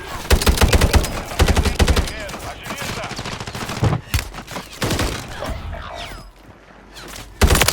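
Rapid bursts of automatic gunfire in the online shooter Warzone, loud and close, with dense volleys, brief pauses and scattered single shots, plus faint game voices underneath.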